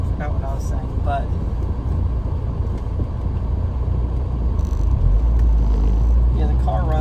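A 1999 Audi A4 wagon engine runs with a steady low rumble, holding close and constant throughout and swelling slightly louder near the end, with faint voice-like traces over it.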